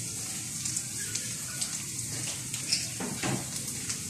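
Garlic and onion frying in cooking oil in a pan while okoy is being made, a close, steady sizzle with scattered crackles and pops, and no talking.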